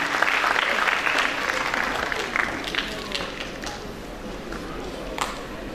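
An audience at a Doctors Day celebration for Accord Multi Specialty Hospitals applauds with dense, sustained clapping that slowly eases off, while voices speak over it.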